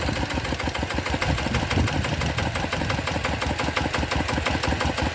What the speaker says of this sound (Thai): ก็จะประมาณนี้นะครับเดี๋ยวเบาเครื่องก่อน